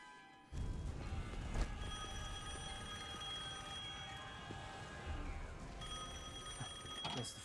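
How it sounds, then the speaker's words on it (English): A phone booth telephone in Devil May Cry 5 rings with a bright, shrill electric bell that cuts in suddenly and keeps jangling without a break through the clip, loud and close. "Phone still works."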